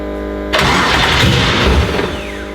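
Professional race car engine cranks and fires, with a sudden loud start after a low steady hum, then a rough, powerful idle rumbling close by, with no speech.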